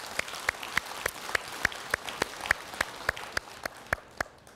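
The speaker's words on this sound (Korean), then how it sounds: "자 오늘 우리 아들 딸 데리고 온 분들에게 다시 한번 박수 치겠습니다." A temple congregation at a Sunday dharma service claps in unison, a steady run of sharp, evenly spaced claps, about three per second, held at a moderate level without voices.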